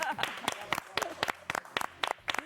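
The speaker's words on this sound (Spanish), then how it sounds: "un aplauso para nuestras invitadas" Audience applause for two women guests at a podcast event, a sparse patter of separate claps at moderate volume rather than a full ovation.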